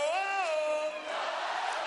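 A concert crowd shouts "ho" back at a hip hop performer at a live tribute show, a loud sustained massed vocal cry with rising and falling pitch, heard close and without other talk.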